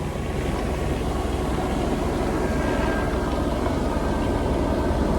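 A steady broadband engine drone of a helicopter passing overhead at Santa Monica beach, California, blended with wind and surf noise throughout.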